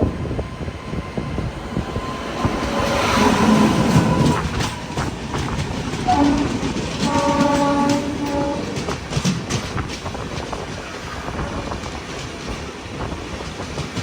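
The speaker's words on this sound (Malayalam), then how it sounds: "തമിഴ്നാട്ടിലെ തിരുനെൽവേലിയിൽ നിന്നും ഗുജറാത്തിലെ ഗാന്ധിധാമിലേക്ക് പോകുന്ന ഹംസഫർ എക്സ്പ്രസ്." Humsafar Express running from Tirunelveli in Tamil Nadu to Gandhidham in Gujarat rumbles past at close range, wheels clattering steadily over rail joints with a brief horn-like tone partway through, alone without talk.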